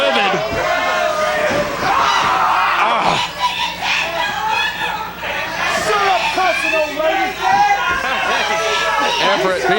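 A loud wrestling crowd in the Sportatorium yells and cheers at an independent pro wrestling show, with many voices screaming and chanting in a dense, continuous roar.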